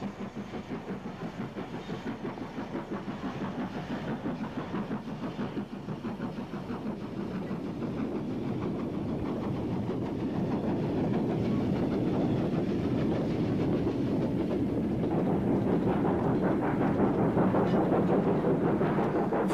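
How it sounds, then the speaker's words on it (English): An up freight train passing at Bromsgrove produces a continuous rumbling roll with rhythmic wheel clatter that holds steady, then grows slightly louder and fuller as the train draws nearer. "The signal goes off again to allow the passage of an up freight."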